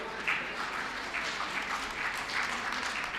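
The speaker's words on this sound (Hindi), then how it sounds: "तालियां बजा के स्वागत करो।" Audience at a Hindi poetry gathering and birthday celebration clapping to welcome guests, a fairly soft, even patter of many hands heard throughout.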